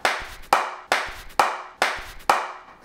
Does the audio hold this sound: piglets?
no